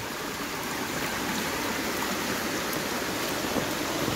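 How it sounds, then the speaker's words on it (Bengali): Floodwater rushes across a road through a forest after record heavy rain, a steady, dense broadband wash of flowing water that continues evenly throughout with no voices. "এই রাস্তার উপর দিয়ে পানি প্রবাহিত হচ্ছে"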